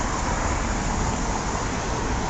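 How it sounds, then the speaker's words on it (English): Steady roar of road traffic, a constant broadband wash of passing vehicles with no distinct events, fairly loud and continuous. "so you're going to get a lot of traffic noise"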